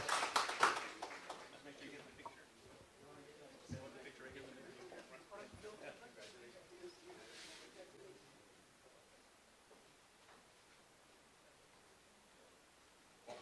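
Audience at a school board meeting clapping briefly for an honoree from an elementary school, a short patter that fades quickly into the room's quiet murmur and a speaker's voice.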